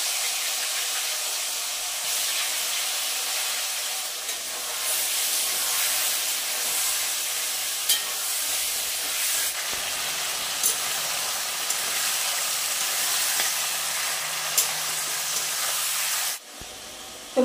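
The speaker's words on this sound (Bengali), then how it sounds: "আগে মাংসটাকে ভেজে নেব, তারপরে সব মশলা দেব।" Chicken pieces frying in hot oil, a loud continuous hiss and sizzle with a few sharp pops, steady and close throughout before cutting off near the end.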